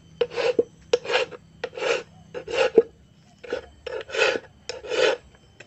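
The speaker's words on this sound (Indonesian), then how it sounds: "Ini kita akan kikir, ditipiskan." A hand file rasps across a motorcycle disc-brake lever accessory to thin it, in about nine rhythmic back-and-forth strokes, close and clear with short pauses between them.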